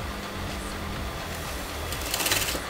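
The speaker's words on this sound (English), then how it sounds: "Here I'm going to sew very small pleats" A sewing machine runs steadily as it stitches small pleats into fabric for puff sleeves, a fast, even mechanical whirr close by that gets slightly louder near the end.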